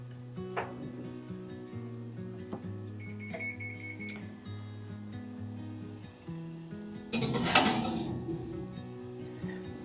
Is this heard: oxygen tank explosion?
no